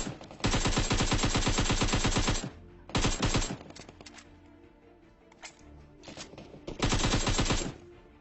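Automatic gunfire during a military base fight in the mobile battle royale game PUBG Mobile, loud rapid bursts of shots repeating across the clip with shorter pauses and scattered single shots between them.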